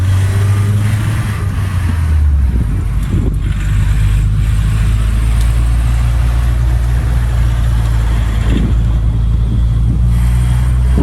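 Naturally aspirated car engine driving up a winding mountain road, a loud continuous low drone with a pitch that steps down early and then holds steady, heard from inside the car with no talking.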